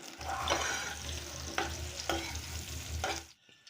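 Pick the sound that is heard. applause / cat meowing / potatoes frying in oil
potatoes frying in oil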